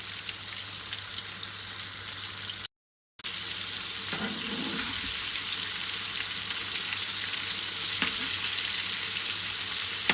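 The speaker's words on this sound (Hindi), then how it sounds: "तो बस हम लोग इनको अब दरमियानी आंच पर ही फ्राई करेंगे।" Coated chicken popcorn pieces deep fry in oil on a medium flame, a dense, even crackling sizzle that stays loud and close throughout, broken by one brief gap of silence.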